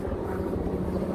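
A helicopter crossing over the town of Hoboken, New Jersey, gives a steady low rotor drone with a throbbing beat, continuous and moderately loud against a background of city street noise.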